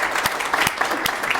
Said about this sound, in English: I want to give a huge round of applause to our panelists